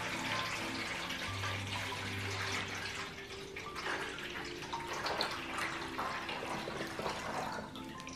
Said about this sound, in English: I'm gonna take water and I'm gonna pour it, warm water, and have it go halfway up this pan